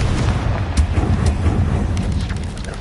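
Repeated booming blasts from the Confringo spell in Hogwarts Legacy, a dense, loud rumble of fiery explosions sustained throughout with no talking.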